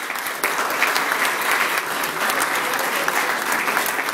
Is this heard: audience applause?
yes